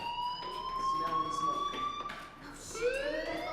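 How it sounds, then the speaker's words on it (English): Fire alarm ringing in a video game: a steady electronic tone holds for about two seconds, then a rising siren-like sweep follows, with some game sounds underneath. "Hey, do you hear that fire alarm?"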